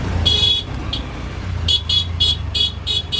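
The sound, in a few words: traffic jam with car horns honking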